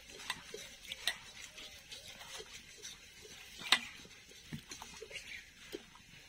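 Rice flour and a pinch of salt are stirred into milk, with faint, scattered spoon taps and soft clinks against the pot at an irregular pace in an otherwise quiet kitchen.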